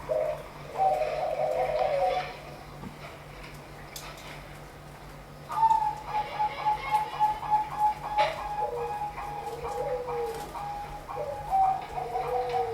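Zebra doves (perkutut) cooing at an Indonesian bird farm, a rhythmic series of fairly close, rolling coos repeating through the clip, with a steady low background hum.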